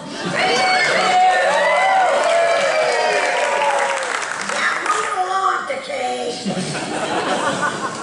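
A live audience at a Futurama cast table read claps, cheers and laughs loudly, the crowd noise swelling early then thinning as voices and chuckles continue.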